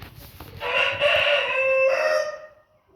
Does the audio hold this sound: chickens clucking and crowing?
yes